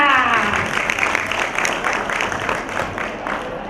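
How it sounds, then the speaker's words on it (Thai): Audience applause welcoming two pharmacists onto a Thai television show set: brisk, close clapping from a studio crowd, loud at first and tapering slightly over a few seconds. "ขอเสียงปรบมือค่ะ"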